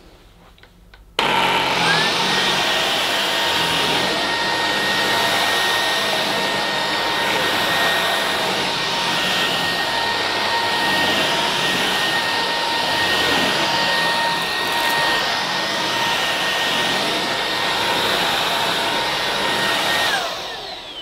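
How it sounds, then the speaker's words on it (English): A Hetty Turbo vacuum cleaner switches on abruptly and runs over carpet with a loud, steady whine and airy roar, holding constant for about twenty seconds before shutting off. "Okay, well, here's the big test. Will it work on my carpet?"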